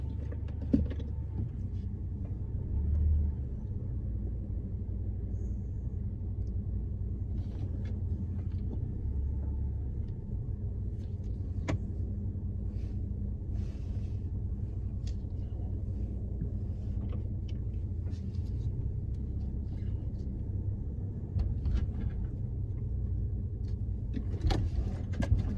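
A Ford Falcon engine hums steadily from inside the car as it drives, with low road rumble throughout and a few faint clicks and rattles from a newly fitted limited-slip differential.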